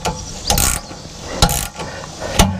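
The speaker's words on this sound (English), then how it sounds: "Use a 9/16 socket." A ratchet wrench turning a 9/16 socket while fitting a generator exhaust system on an RV, heard as three short bursts of clicking ratchet strokes separated by pauses, close and fairly loud.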